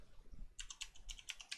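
Quiet typing on a computer keyboard, a quick run of about eight light key clicks in an irregular rhythm, close by and alone.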